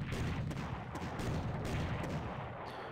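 Artillery fire booms in the Panzer Corps war strategy game during a battle around Athens: a dense, continuous low rumble with several faint sharper cracks on top, steady throughout.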